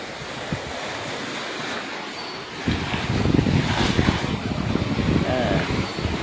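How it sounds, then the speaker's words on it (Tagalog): Waves wash in with a steady surf roar and wind buffeting the microphone, growing noticeably louder partway through. "Bakit may alon"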